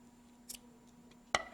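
Scissors snip through bookmark craft material in two short, crisp cuts, a faint one followed by a louder close one, with quiet room tone between and no talking.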